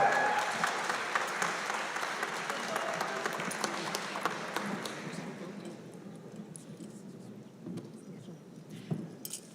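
An audience at a high school graduation ceremony claps loudly, a dense wash of applause that fades over several seconds into scattered claps and murmuring.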